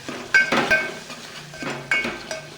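A spoon clinks and scrapes against a pan while stirring a ground spice mixture into hot oil for cabbage bhaji, with a few sharp metallic knocks and softer scraping strokes, close up and without speech.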